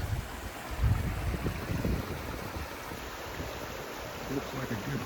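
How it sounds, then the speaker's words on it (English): A creek flows at a trail crossing outdoors with a steady, broad rush of water heard nearby, alone and without talk, softly varying in level throughout. "Coming to another creek crossing."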